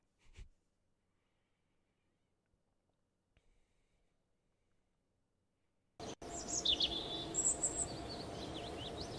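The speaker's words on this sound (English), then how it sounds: "Those are some loud birds." Loud chirping birds in the video game Kerbal Space Program burst in suddenly after several seconds of near silence, a bright run of repeated tweets over a steady ambient bed.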